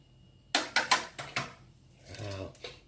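Spoon stirring chicken stock into durian chicken in a pot, giving a few quick scraping clinks against the pot followed by a softer sloshing scrape, close and fairly quiet.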